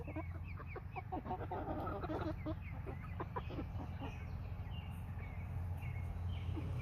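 Chickens cluck softly and intermittently over a constant low background hum, with a scatter of short calls, moderately near but not loud.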